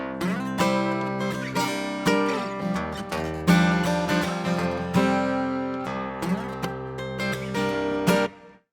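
An acoustic guitar played straight through its original pickup with no processing, with strummed chords and picked notes ringing out clearly and alone for several seconds before stopping abruptly.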